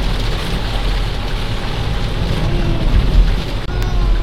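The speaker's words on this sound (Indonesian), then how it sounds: "hujannya lebat sekali ya" Heavy rain pours onto a toll road on the way out of Malang, a loud, constant roar heard from inside a moving vehicle with a low rumble beneath and one brief knock near the end.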